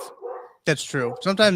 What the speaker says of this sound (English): If you can hear the barking in the background.